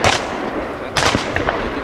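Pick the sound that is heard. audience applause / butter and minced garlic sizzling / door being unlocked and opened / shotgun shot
shotgun shot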